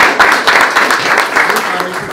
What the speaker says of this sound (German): Also herzlichen Applaus.